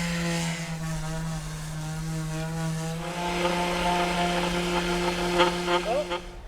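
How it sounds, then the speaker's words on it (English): A power sander works a piece of wood during sailboat home-improvement repairs, giving a steady, close motor hum with a rougher grinding texture building as it presses into the surface. "but now I need to sand it."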